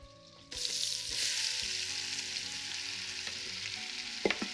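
A big batch of onions starts in a pan on a burner turned up high, breaking into a sudden loud, steady sizzle after a quiet start, with faint clinks of stirring near the end.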